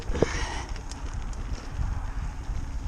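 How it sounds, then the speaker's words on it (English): Horses' hooves clip-clopping along a damp road ahead of a cyclist, a steady walking beat of hoof strikes mixed with road and wind noise, moderately close. "There's some horses up ahead, always be courteous."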